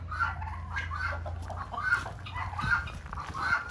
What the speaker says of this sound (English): Look at all those hens.